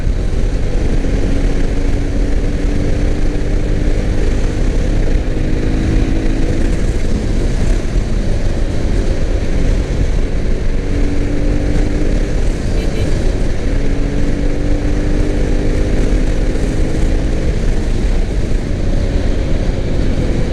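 Steady, loud engine drone of a 2021 Mahindra Mojo 300 cruiser motorcycle while riding, a deep rumble with shifting tones as the revs rise and fall, plus continuous wind noise.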